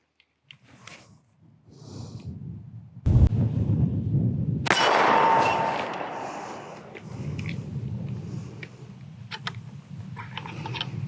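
A .44 Magnum firearm fired at short range during a hunting test gives a sudden loud blast, followed by several seconds of booming rumble and crackle that slowly fade under low background noise.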